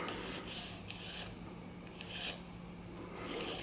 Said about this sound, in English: a file that has one live edge and one dead edge